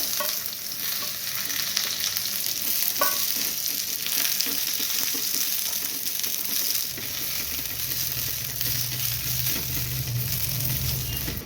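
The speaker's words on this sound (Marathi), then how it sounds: "आता त्याच तेलामध्ये आपण हा कांदा परतून घ्यायचा" Onion sizzles as it sautés in hot oil for Kolhapuri misal, a dense, loud, continuous frying hiss close up, with faint stirring scrapes running through it.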